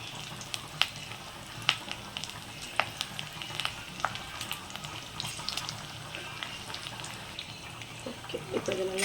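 Onion, curry leaves and dried red chillies temper in hot oil for a snake gourd kootu, giving a close, crackling sizzle with sharp pops and spits scattered throughout and a faint stir near the end.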